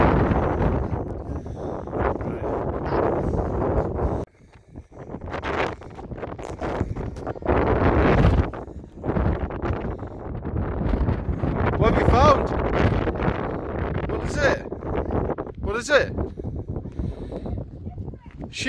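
Strong coastal wind near Whitby buffets the microphone as a loud, roaring rumble with gusts that rise and drop, one brief lull partway through, and people talk in the background.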